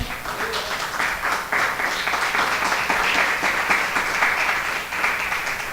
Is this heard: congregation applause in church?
yes